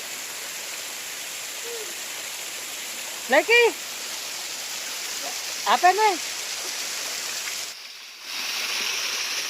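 A small waterfall at Singkut gives a steady, broad rushing hiss of flowing water that fills the whole scene, with brief bursts of speech over it.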